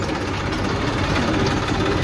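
At a mud-loading site with a JCB 3DX loader, Messi 241 DI and 1035 DI tractor engines run in a steady, loud, knocking diesel drone, unbroken and close, with no talk.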